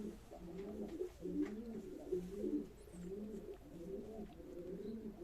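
Domestic pigeons kept as game birds coo steadily at a live pigeon auction, their rhythmic, overlapping throaty calls repeating continuously and close by, with no talking.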